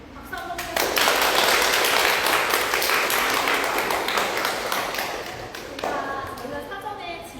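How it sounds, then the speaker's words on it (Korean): An audience at a book talk for a new essay collection bursts into dense, sustained applause that holds steady for several seconds and then cuts off, with talk at either end. "박수 한번 주세요."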